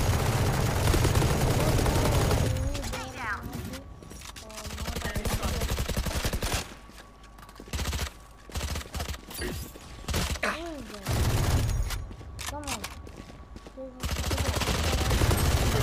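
Rapid automatic gunfire in the video game Valorant, dense bursts in the first seconds, then scattered shots and short rattles with mechanical clicks, loud and close, with bursts of game effects between quieter gaps.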